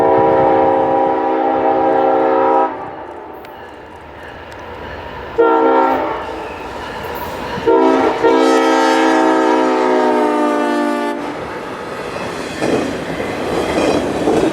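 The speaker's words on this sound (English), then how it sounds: "is equipped with a Leslie S5T air horn, uncommon for a GEVO." A Leslie S5T locomotive air horn on a GE Evolution Series locomotive sounds in several long, loud chord blasts with short gaps, over the rumble and clatter of a passing train.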